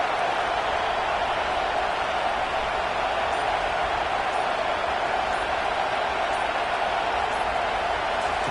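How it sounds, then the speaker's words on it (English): Steady, dense crowd roar fills a college football stadium in College Football 25, Nebraska versus UCLA, a loud continuous wash of cheering that holds unbroken throughout. "Big third down as the crowd gets behind this defense."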